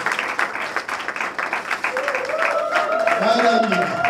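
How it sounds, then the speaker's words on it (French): Audience applause at an African award ceremony for performing artists, greeting the director; scattered clapping under a rising tonal voice or music, moderately close. "nous prions d'applaudir pour la réalisatrice"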